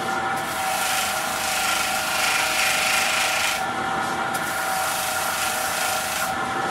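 A power sanding disc grinds across wood at around 120 grit, making a steady, loud, abrasive rasp with a constant whine. It continues unbroken for several seconds, with small surges in pressure and no talking.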